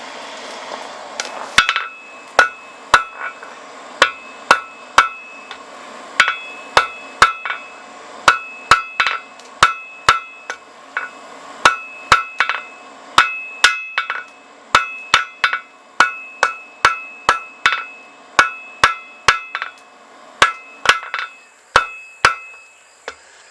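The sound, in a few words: blacksmith hammering rebar end out to a point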